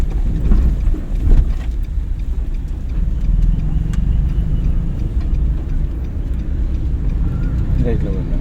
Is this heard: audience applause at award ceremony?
no